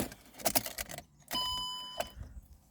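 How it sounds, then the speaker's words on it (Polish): A key jingles and turns in the ignition of a Mercedes W204 with a CAN bus fault, followed by a couple of electronic chimes and soft clicks, close and fairly quiet. "Po przekręceniu kluczyka włącza się zapłon i mnóstwo komunikatów"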